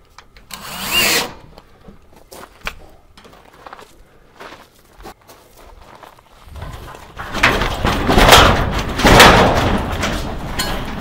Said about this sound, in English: So I'm just getting enough screws in here to hold the panel in place